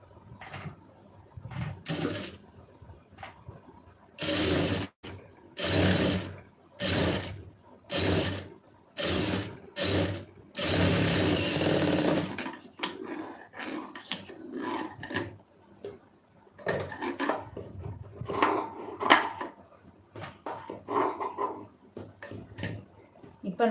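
A sewing machine stitches two fabric strips together during a beginner tailoring lesson, running in a string of rhythmic, evenly spaced bursts and then one longer continuous run, followed by quieter handling sounds.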